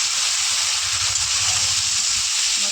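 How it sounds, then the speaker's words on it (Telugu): Tomato pieces fry in a pan for tomato rice, a steady, loud sizzling hiss running unbroken throughout with a faint low bubbling underneath. "టమాటా ముక్కలు బాగా వేగాలండి"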